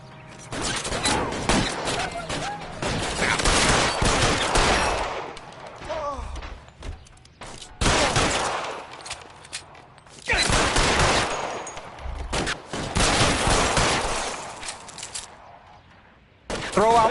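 Bursts of automatic gunfire in a PS4 video game come in loud volleys separated by short lulls, with game voices speaking between and over the shots.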